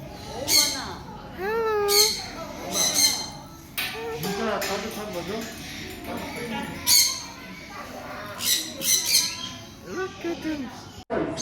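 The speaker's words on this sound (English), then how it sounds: "oh, I can hear birds." Birds squawking and chirping loudly in a bird café, with repeated sharp calls close by, overlapping with people talking throughout.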